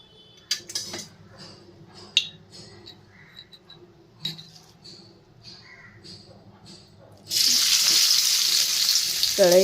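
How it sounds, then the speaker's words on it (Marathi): Peanuts roasting in oil in a kadhai give a steady, loud sizzle in the last couple of seconds, after a quieter stretch of scattered clinks and light stirring scrapes; a voice talks intermittently throughout. "ह्या बघा अशा प्रकारे थोडेसे शेंगदाणे भाजून घ्यायचे"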